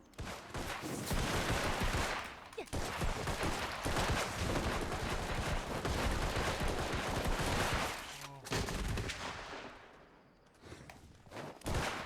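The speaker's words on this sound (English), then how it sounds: "The slide while firing bullets." Dense rapid gunfire in Vermintide 2 as the character slides while shooting, loud sustained bursts of overlapping shots that drop off briefly near the end before resuming, with faint voice underneath.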